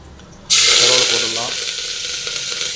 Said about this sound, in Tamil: இப்போ எண்ணெய் காஞ்சிச்சு கடுகு போட்டுடலாம் கடுகு நல்லா தாள் பொரியிடும்